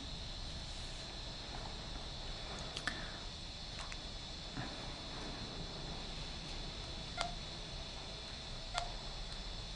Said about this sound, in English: Now I'm going to use my own cellular phone to call our house.